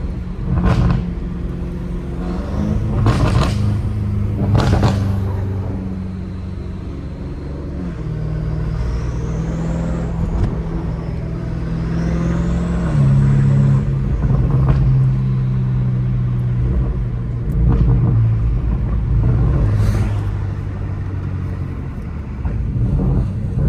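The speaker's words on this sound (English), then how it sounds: "Hearing the turbo spool is so satisfying" A catless BMW M5 Competition engine drones steadily up close while a rising whistle of turbo spool sweeps up and down, with a few sharp pops along the way.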